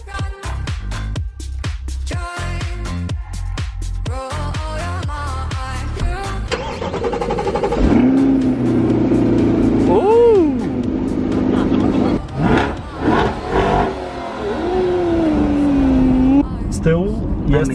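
A mid-engined sports car's 6.2-litre naturally aspirated V8 cranks and starts, then settles into a loud idle with several sharp revs rising and falling up close.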